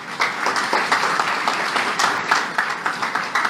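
An indoor audience at a motivational talk applauds with dense, steady clapping from many hands, loud and sustained for a few seconds.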